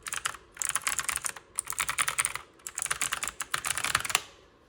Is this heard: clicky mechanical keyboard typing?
yes